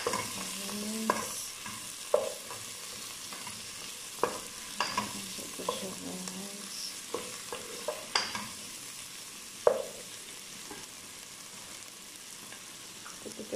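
Shrimp being stirred into a coconut milk vegetable stew with fish, with soft sizzling and repeated scrapes and knocks of a spoon against the pot at an uneven pace.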